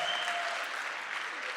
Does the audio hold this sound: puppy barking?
no